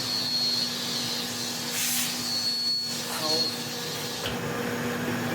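Vintage Hoover 427 cylinder vacuum cleaner running steadily with a constant motor drone and a thin high whine, heard close throughout with a few faint scrapes over it.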